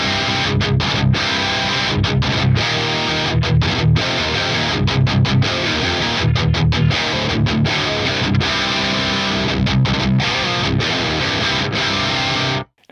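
A Mesa Mark II-C Plus amp model in an Axe-Fx III, overdrive maxed, drives an electric guitar through a long, loud, saturated riff of chugging chords and quick stops before ending abruptly.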